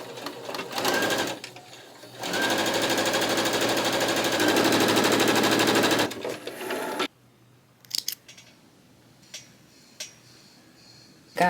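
A sewing machine stitches jacket pieces together, first in short starts, then in a steady, loud mechanical whir of several seconds, before it stops and is followed by scattered light clicks and handling noises.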